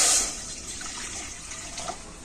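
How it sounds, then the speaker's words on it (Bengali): Water poured into a kadai on a stove, a brief splashing gush at the start fading into a softer trickling wash, close and alone. "আর কড়াতে আমি দিয়ে দেবো জল।"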